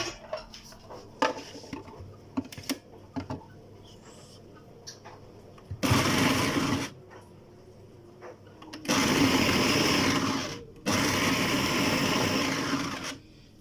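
An electric grinder minces meat with onion and tomato for hawawshi in a home kitchen, running in three loud, steady whirring bursts of a few seconds each, after scattered clatter and clicks of handling parts.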